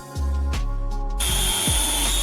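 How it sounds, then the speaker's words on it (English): A power drill bores holes through a taped board, its motor spinning up and winding down in quick repeated bursts before a louder, steady high whine takes over, no talk. "Drill holes and remove the tape with the markings."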